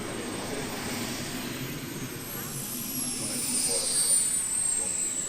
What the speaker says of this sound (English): Just taxiing on the runway makes it very majestic.